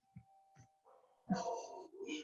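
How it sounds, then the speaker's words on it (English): A dog gives a couple of small yips followed by a longer, louder bark, close by and quiet overall, with a faint steady tone underneath. "I'm having dog barking problems."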